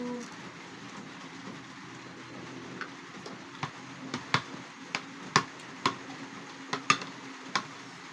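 Steady broadband rain falls on a rainy afternoon in the Philippines, a continuous soft wash with scattered louder drips or taps landing irregularly in the second half, no voices.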